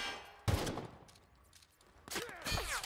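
Gunfire in The Outer Worlds video game, with two loud bursts of shots, one near the start and another late, separated by quieter game ambience and a short vocal sound.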